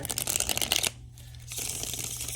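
Tarot cards are shuffled close up in a quick riffling burst. A short quiet pause follows, then softer continued handling of the cards, with no talking.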